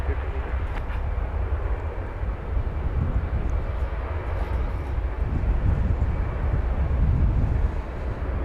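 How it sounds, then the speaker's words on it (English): A UPS Boeing 757 taxis across the airfield at DFW airport, a steady broadband jet engine rumble heard from a distance, continuous and fairly even in level throughout. "UPS 757 scooting across."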